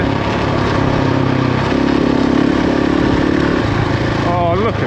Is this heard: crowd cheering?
no